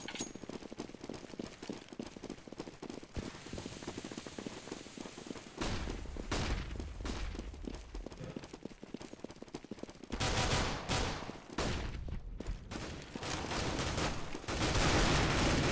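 Rapid gunfire from a Counter-Strike: Global Offensive match in an ESL Go4CS:GO Cup game, dense bursts of shots and thuds running throughout, loud and close with no clear talk.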